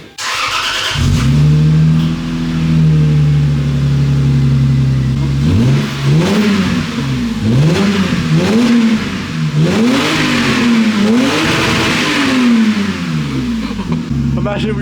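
A Lexus GS300 with a 2JZ engine and no mufflers revs hard, starting with a loud, steady raw idle and then climbing through a series of rising and falling blips. The engine stays loud and close the whole time.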